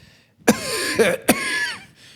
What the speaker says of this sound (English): he coughed.